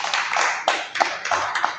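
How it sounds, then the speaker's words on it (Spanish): A church congregation gives a short burst of clapping, a small group's irregular hand claps close by with a faint voice underneath. "Un aplauso para el Señor."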